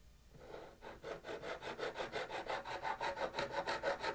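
A file levels the frets on a G&L Legacy guitar, making a soft, close rasp in quick even strokes, about four per second, that settle into a steady back-and-forth rhythm.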